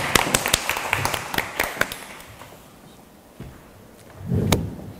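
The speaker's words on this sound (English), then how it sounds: "Let's give Ricky a round of applause." A small workshop audience at a Halloween makeup class gives scattered hand claps, sharp and fairly close, thinning out after the first couple of seconds, with a low rumble of movement near the end.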